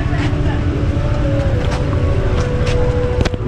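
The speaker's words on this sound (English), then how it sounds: "So this is the first official ride of the Xciting S400i." A brand-new Kymco Xciting S400i 400cc scooter engine on its first ride, a steady droning hum with a sustained tonal whine and road wind, loud and continuous throughout.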